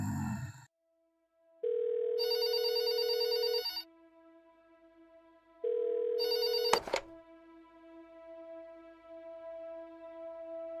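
A telephone ringing in the video game There Is No Game, two long electronic ring bursts separated by a pause, followed by a thunk and a lingering tone.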